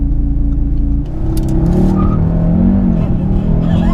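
A 2019 Audi RS3 launches hard from a standstill, its engine held loud at high revs before surging forward with tire squeal and rising pitch, close by, with brief voices in the car.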